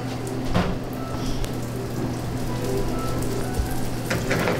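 Sesame-crusted fish sears in clarified butter on a flat top griddle, giving a steady close sizzle like light rain with a few sharper pops, no talk.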